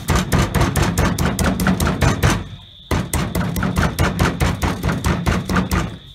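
Knife blade beating raw chicken on a board, a fast run of loud, regular thuds and chops that stops briefly near the middle, then resumes at the same steady rhythm until the end.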